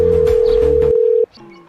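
A telephone dial tone heard while placing a call, a loud, steady continuous hum that cuts off abruptly after about a second, followed by faint line noise.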